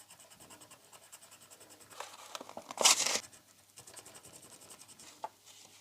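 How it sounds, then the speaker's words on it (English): A pen scratches out handwriting on a small craft label, faint close rubbing strokes in short bursts with one louder scribble in the middle. "So I'm going to write Easter Joy on there."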